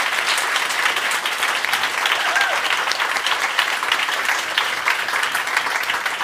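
Dense, steady audience applause from a crowd at a women-in-tech night closing event, loud and continuous throughout with no pauses, clapping alone without speech.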